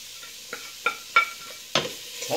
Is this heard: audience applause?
no